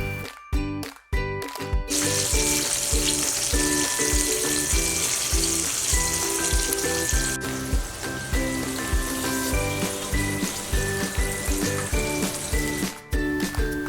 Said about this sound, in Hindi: और जब ऑयल मीडियम हॉट हो जाए तो उसमें आप इसको फ्राई कर लीजिए।